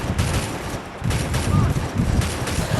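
Gunfire in the mobile battle royale game Free Fire, a dense continuous fusillade of overlapping shots and booms throughout, fairly loud, with a voice talking underneath at times.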